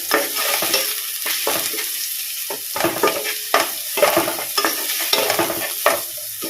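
Onions, salted, sautéing in a pan for a Kerala okra milk curry, with steady frying sizzle broken by repeated scraping stirs at an irregular rhythm, close and fairly loud with no talk.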